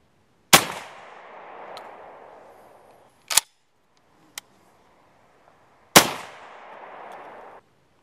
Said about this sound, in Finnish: Nyt testataan Penelli M2 ja ammuttaan samoja paukkuja mitä Penelli vinsillä